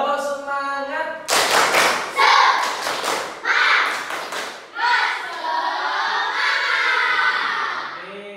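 A primary school class does a rhythmic 'tepuk semangat' clapping chant, bursts of patterned claps and thumps alternating with children and a teacher chanting the words aloud, close and lively.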